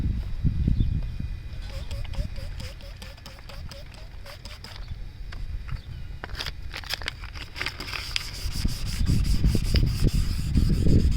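1200-grit sandpaper rubbing over the painted hood of an Ariens mower, giving steady, close, rhythmic sanding strokes that swell louder toward the end.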